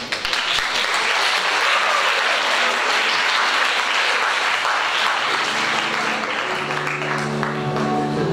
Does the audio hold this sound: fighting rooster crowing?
no